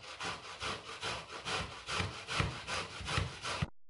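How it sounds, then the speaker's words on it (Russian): Warm boiled potato rubbed against a fine grater makes rhythmic rasping strokes, about two per second, close and steady with no talking, before stopping abruptly at the end. "Натираем на мелкой терке."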